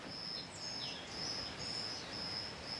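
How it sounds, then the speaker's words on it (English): A steady, high-pitched cricket trill pulses continuously, with a few soft bird chirps and a low outdoor hiss underneath. "It's only about 4:30 here and the crickets are already starting."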